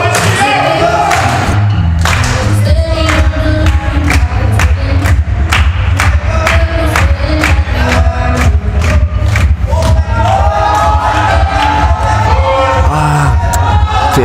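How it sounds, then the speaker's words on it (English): A loud indoor crowd at a national weightlifting championship cheers and claps rapidly after a woman's lift, with heavy thuds and shouts over a dense, continuous roar that stays full throughout. "Give her a big round of applause."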